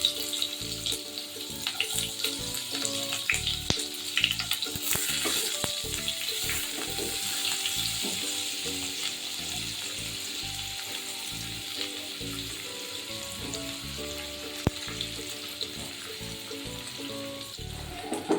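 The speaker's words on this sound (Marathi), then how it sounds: "यामध्ये थोडंसं हिंग आणि आता मी यामध्ये एक कांदा बारीक चिरून घालणार आहे." Finely chopped onion fries in a pan with garlic and asafoetida for an egg curry, giving a soft, steady sizzle with light stirring clatter and no voices.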